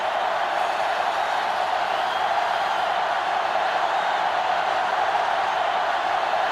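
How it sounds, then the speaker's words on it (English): A stadium crowd in the NCAA Football 2005 video game roars in a steady, unbroken wash of cheering that holds at an even level throughout. "So this crowd is making their presence felt."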